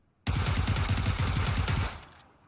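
Rapid automatic gunfire in the PUBG battle royale game, a loud close burst of about a dozen evenly spaced shots over a second and a half, ending in a short fading echo.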